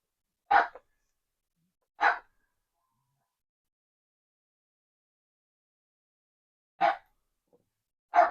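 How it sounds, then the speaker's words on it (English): A dog barks four times in sharp single woofs, two close together early and two more after a long silence, fairly near and clear. "I apologize for the dog barking."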